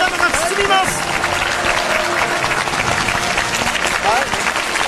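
Audience applause during a televised bubble-blowing performance, a thick, continuous burst of crowd clapping that fills the whole stretch, with voices and cheers mixed in.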